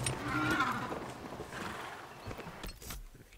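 A horse trots in the video game Dragon Age: Inquisition, with faint clip-clop hoofbeats and a soft whinny under a low ambient game soundscape that thins out toward the end.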